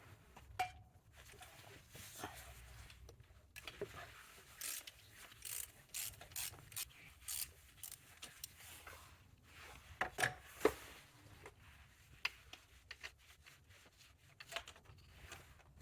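Intermittent ratchet clicks and metallic clunks sound up close while the serpentine belt tensioner is unbolted and worked free from a 2006-2015 Audi Q7 engine. Bursts of clicking alternate with quieter pauses, with occasional sharper metal knocks.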